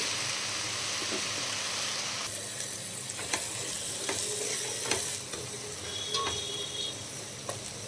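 Soya biryani curry being stirred in a pan, a soft continuous sizzle with scattered scrapes and taps of a spoon against the metal, close and without speech.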